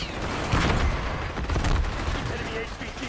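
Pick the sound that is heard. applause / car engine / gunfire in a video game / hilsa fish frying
gunfire in a video game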